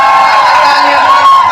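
Loud crowd at a college campus farewell party cheering and clapping in welcome, a dense continuous roar of voices and applause filling the space.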